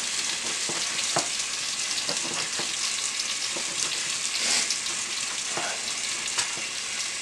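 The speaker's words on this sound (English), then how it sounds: "my onion are still getting nice and sweaty in there" Chopped onions sweat and sizzle in a frying pan for masala beef steak, a steady bright hiss broken by scattered stirring scrapes and crackles, close and moderately loud, with no voices.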